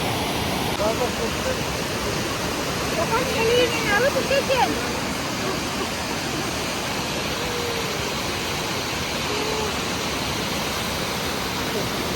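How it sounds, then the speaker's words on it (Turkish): Tomaro Waterfall in Amasya, reached by a long stairway, pours a steady, dense roar of rushing water that fills the whole scene at close range, with faint voices briefly surfacing over it. "Şimdi şelaleyi size göstereceğiz."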